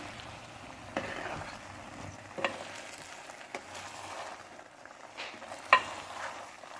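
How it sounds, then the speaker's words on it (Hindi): Beaten eggs stirred with a spoon into semolina halwa over a low flame, a soft low sizzle with occasional sharp spoon taps and scrapes against the pan, close and quiet. "इस स्टेज पे हम जो फ्लेम है वो लो कर देंगे और आहिस्ता आहिस्ता से चम्मच चलाएंगे।"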